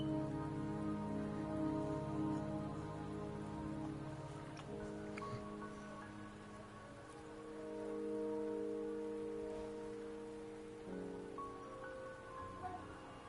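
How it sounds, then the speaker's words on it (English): Steady rain patters in a Wuthering Waves game scene, a soft continuous hiss beneath sustained musical tones that shift partway through. "Don't worry, the rain won't last much longer."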